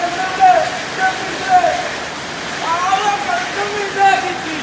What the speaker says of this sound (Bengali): এত বৃষ্টি হচ্ছে কি বলবো